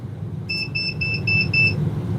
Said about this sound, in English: I don't know what that beep is.